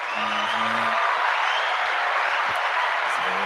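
Hand claps for a live studio podcast: a steady, even wash of clapping that holds for several seconds while a voice briefly speaks over it.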